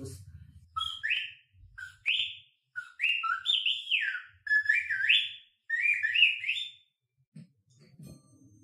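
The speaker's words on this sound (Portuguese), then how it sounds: "Pássaros." Birds chirping as a storytelling sound effect for a forest scene, a series of bright rising whistled calls repeated in quick bursts, clear and close with brief pauses between phrases.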